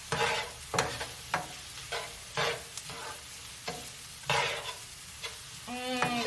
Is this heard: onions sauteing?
yes